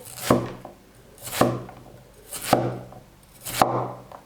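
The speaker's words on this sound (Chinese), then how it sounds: "清洗好的铁棍山药，我们给它切片" Four firm, evenly spaced knife strokes cut through peeled iron-stick Chinese yam on a cutting board, each a close, sharp chop with a short thud. No voices.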